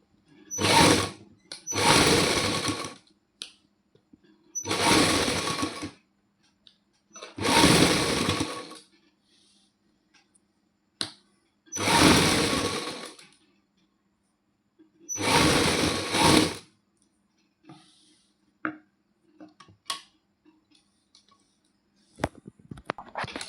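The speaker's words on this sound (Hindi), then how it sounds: "ਹੁਣ ਅਸੀਂ ਦੂਸਰੀ ਸਲਾਈ ਲਗਾਵਾਂਗੇ ਇੱਧਰਲੀ ਵਾਲੀ ਸਾਈਡ ਤੇ ਆਰਾਮ ਨਾਲ" A sewing machine stitches lace trim onto a suit in six separate bursts of close, loud whirring, each lasting about a second, separated by quiet pauses with small handling clicks.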